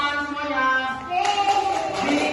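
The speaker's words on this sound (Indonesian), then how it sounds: "Tepuk tangan semuanya." Classroom applause from a group of students clapping together, brief and fairly loud, mixed with voices and tonal sounds over the claps.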